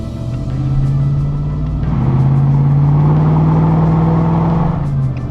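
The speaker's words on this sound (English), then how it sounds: "So I'm currently towing the Escort up about 3 hours north of where I live" A tow vehicle drives along the road pulling a turbo Ford Escort on a trailer, steady loud engine drone with a sustained low hum and road roar, no talking.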